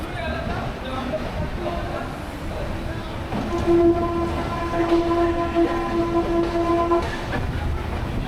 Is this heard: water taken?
no